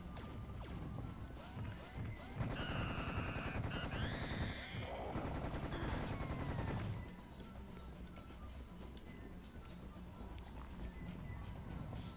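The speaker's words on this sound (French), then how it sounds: "on entend les scorpions. Les scorpions avec une mitrailleuse." Bursts of machine gun fire from scorpion enemies in an action video game, rapid rattling volleys with clanks and game effects over several seconds before fading into quieter ambient game sound.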